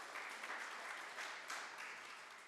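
A crowd gathered at a public forum about ARPA funds claps for city staff, a quiet, even patter of applause with slight swells, heard from a distance without talk.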